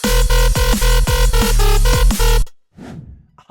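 Drum and bass drop built on a gritty FM bass with pounding kicks and snare hits, loud and dense for about two and a half seconds before cutting out, followed by a faint trailing tail.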